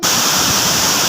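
Elneer waterfall in Kalasa during the monsoon, a loud, continuous rush of falling water with no break.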